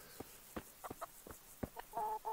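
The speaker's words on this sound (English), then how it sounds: "Oh yeah, is that chicken still in?" A chicken clucks in the video game Kingdom Come: Deliverance, with short, close clucks spaced irregularly and ending in a slightly longer run of calls.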